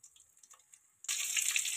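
Chicken pakoda fries in hot oil, first as quiet scattered crackles, then as a sudden loud, steady, dense hiss that carries on without any talking.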